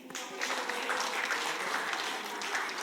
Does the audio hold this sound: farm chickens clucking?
no